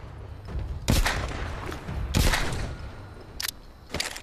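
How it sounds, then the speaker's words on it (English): Gunshots ring out, several sharp loud bangs spaced irregularly, with two heavy reports followed by quicker, thinner cracks, and no voices. "Shot my gun."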